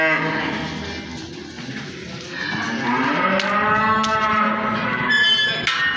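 Middle-aged cows bellow in long, loud moos close by as cattle are loaded for transport to Balıkesir, overlapping calls filling the air with no talk.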